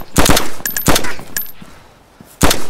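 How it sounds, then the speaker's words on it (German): Sharp bursts of gunfire in DayZ Standalone crack out in several quick volleys, loud and close, with short gaps between them and no talking. "hast du einen Schuss gehört?"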